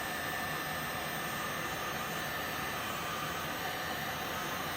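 A heat gun blows hot air over vinyl wrap film on a Tesla front door, giving a steady, even fan-and-heater whoosh that holds at a constant moderate level with no talk.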